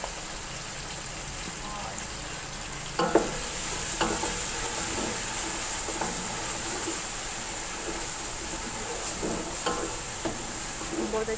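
Ground spices and cumin fry in a pan for beef haleem, a continuous close sizzle and hiss with occasional stirring scrapes and knocks over it.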